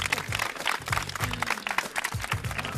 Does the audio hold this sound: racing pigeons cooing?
no